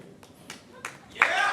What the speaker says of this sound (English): So give a cheer for right here.